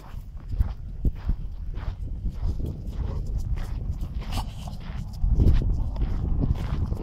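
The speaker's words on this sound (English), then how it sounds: "it's our first time seeing a horse" A horse walks nearby, its hooves clip-clopping in an irregular, unhurried rhythm at moderate volume, with soft rustling around it and no clear speech.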